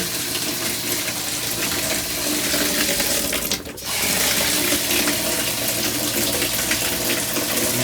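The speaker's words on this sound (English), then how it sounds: "You can get hot and cold water in your bathtub." Water runs from the faucet into a bathtub in a 2024 Highland Ridge Open Range 3X 390TBS RV, a steady, loud hiss and splash close by that briefly dips for a moment before carrying on.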